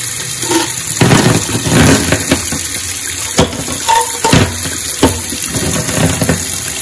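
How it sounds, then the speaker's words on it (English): Black oxide coated steel hot rod parts being rinsed under running water from a tap, a steady gushing and splashing stream with scattered clanks and knocks of the parts against the sink, close and fairly loud with no voices. "see, we rinse them off."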